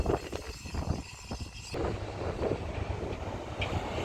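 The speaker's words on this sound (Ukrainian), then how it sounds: "Дуже багато пилу зараз вітер піднявся" Gusty wind raising heavy dust at a residential construction site buffets the microphone with rough, uneven rumbling and bursts of noise, loud and close, with no voices.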